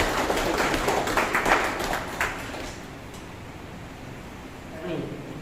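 A crowd applauding Swami Ramdev at a gathering, a burst of clapping that fades over a few seconds while a voice speaks over a public address.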